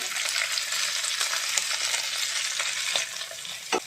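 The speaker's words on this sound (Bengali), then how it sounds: "এখন এর মধ্যে সবজিগুলো দিয়ে দেব।" Vegetables go into a hot pan of lightly browned ginger and garlic and fry with a steady, fairly quiet sizzle. Stirring scrapes and taps break through now and then.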